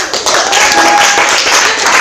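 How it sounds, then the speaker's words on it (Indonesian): Classroom audience clapping after a group presentation, a dense, loud patter of hands close by, with a sustained tone running underneath. "Oke, tepuk tangan."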